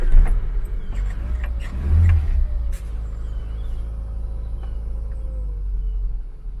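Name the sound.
Austin Allegro engine revving with throttle pumps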